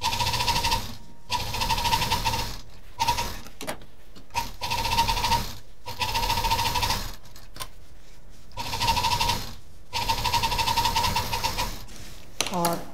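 An electric sewing machine stitching fabric bag pieces together in several bursts of rapid whirring, separated by short pauses, close up with a person talking over it.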